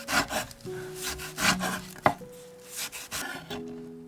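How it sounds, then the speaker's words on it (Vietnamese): Knife cutting a few slices of ginger on a cutting board in a home kitchen, a series of close, uneven chopping and scraping strokes with a sharper knock midway, no talking. "Cắt thêm vài lát gừng."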